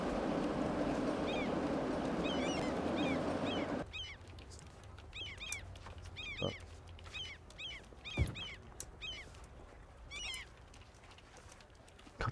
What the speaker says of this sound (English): God, those seagulls are so annoying.